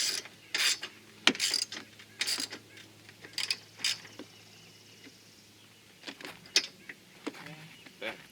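A ratchet snugs the nuts of an Ultra Racing strut tower brace on a 2021 Toyota Camry TRD, giving close, irregular bursts of quick clicking separated by pauses.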